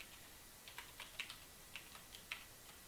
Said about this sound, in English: I'm going to type print